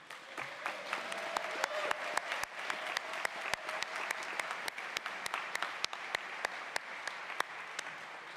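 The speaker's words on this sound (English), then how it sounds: "I'd like you to rise, if you would, and also have a round of applause" A round of applause from an audience at a college opening convocation as returning students stand, steady clapping with sharp individual claps standing out, fairly distant.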